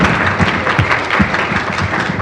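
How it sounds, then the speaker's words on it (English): Conference audience applauding a panel at an inclusive Africa event, loud continuous clapping from many hands with a few heavier thumps mixed in, filling the whole moment. "Let's give them another round of applause."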